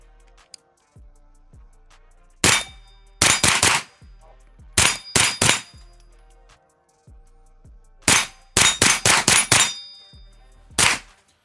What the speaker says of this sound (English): these are the first rounds through this gun here